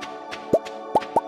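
Watering crops with a watering can in the Stardew Valley video game gives three short, bright watery plops, close and distinct, spaced unevenly over a faint background tone.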